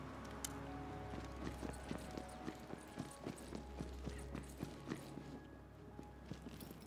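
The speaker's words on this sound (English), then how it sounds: "every time we open a chest, we hear the queen neigh" Hooves clip-clop in a steady walking rhythm in a video game, Tiny Tina's Wonderlands, fairly quiet, with a soft background hum and no clear whinny.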